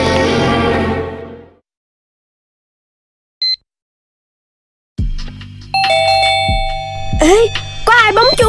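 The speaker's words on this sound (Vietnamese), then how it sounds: "Ê, có ai bấm chuông kìa" A cartoon doorbell chimes once, a short bright two-tone ding standing alone in a quiet gap, with animated characters talking before it and cartoon chatter and music-like tones following.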